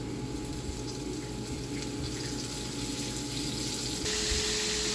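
Elk steak bites sizzle in a hot frying pan with a steady, close, broadband hiss and crackle that swells slightly near the end.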